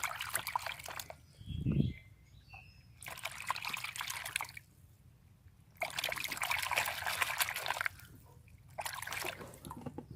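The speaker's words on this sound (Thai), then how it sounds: "แล้วคุณครูก็จะเอาไปเขย่าน้ำค่ะ" A caladium cutting is swished and shaken in water, giving quiet bursts of trickling and sloshing split by short pauses, with a single low thump near the start.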